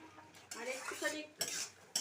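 Utensil scraping and clinking in a pan while potato and ridge gourd with poppy seed paste are stirred, in a few short bursts with brief pauses between them, close and moderately loud.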